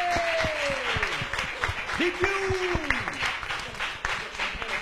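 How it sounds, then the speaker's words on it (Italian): A crowd applauds steadily throughout at a gym event, with a voice calling out and a rising then falling tone sweeping over the clapping. "Applauso, applauso dell'anno zero. Anno zero, fatemi sentire!"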